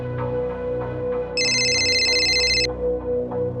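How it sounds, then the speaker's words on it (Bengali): A telephone ringtone trills steadily for just over a second in the middle, loud and clear over a continuous low tonal music bed, with no talking. "পুনে থেকে ফোন এসেছে"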